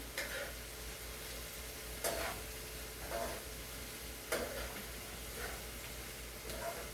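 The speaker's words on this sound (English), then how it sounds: "The onions are frying, coming along." Steady sizzling of onions frying in a pan, with a few brief scraping stirs breaking through the constant hiss.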